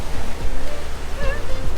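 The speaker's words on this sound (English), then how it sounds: "Rogue wave, rogue wave." An ocean wave surges and crashes onto the shore at Isla Mujeres, Mexico, a loud, close rush of churning water that swells and tumbles, with a voice briefly rising over it.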